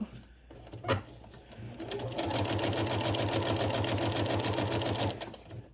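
A sewing machine stitches around fabric in a steady rapid mechanical whirr lasting about three seconds, preceded by a sharp click and quiet handling, heard close and fairly soft.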